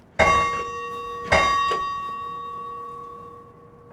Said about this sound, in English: Now, when they pull this, the bell rings. This was a bell that was off the Swinomish from 1914.